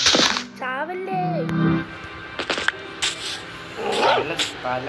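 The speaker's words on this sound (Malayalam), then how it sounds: "പട്ടിയാണല്ലേ കരയുന്നത്" A Minecraft dog whines in a high, wavering tone in the game, set against children talking and laughing over the gameplay, with short yips breaking through among the voices.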